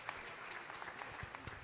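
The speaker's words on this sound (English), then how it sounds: "Please let's keep clapping for her." Scattered audience applause at a conference session in Africa, fairly faint and distant, a loose patter of claps with no voices over it.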